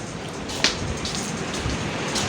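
Steady rain falls on surfaces outdoors, a constant dense hiss with scattered drips and a brief sharp patter near the start, without any voices.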